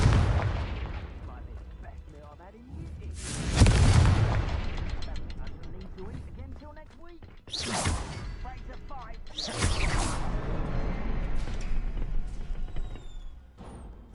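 Confringo blasting spells explode in Hogwarts Legacy, loud bursts with whooshing blasts and crackling debris repeating across the span, mixed with game sounds and a voice speaking.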